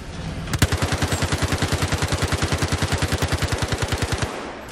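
Automatic weapon fire in the first-person shooter Star Citizen, a loud, steady burst of about forty evenly spaced rounds lasting nearly four seconds, with no talking over it.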